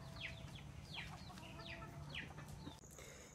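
Native free-range chickens cluck in a series of short bird calls against steady farmyard background noise, with no one talking.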